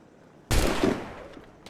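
A single loud gunshot in Assassin's Creed Rogue, a sudden sharp blast with a brief decaying tail, then a faint click shortly after.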